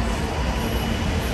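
A loud, dense rumbling roar of a train going by close, steady throughout with no voices.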